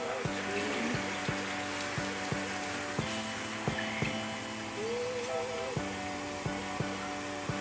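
Hot water pours and splashes steadily into a pot of dried lima beans, against a continuous background hum, with faint clinks and knocks recurring throughout.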